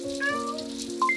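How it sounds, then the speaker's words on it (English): A cartoon cat meows outside in the rain, a short, clear tonal call repeated twice in quick succession over a steady background hum, fairly close and alone without talking. "Mommy, there's a cat out there."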